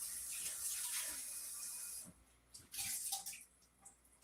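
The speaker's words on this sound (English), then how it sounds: "Let me rinse." Bottles are rinsed under a running tap at a sink, with a steady close splash of water for about two seconds. Then comes a quieter stretch with short bursts of water and light clinks.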